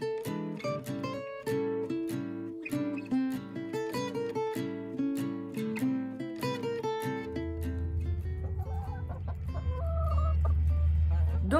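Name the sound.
chickens clucking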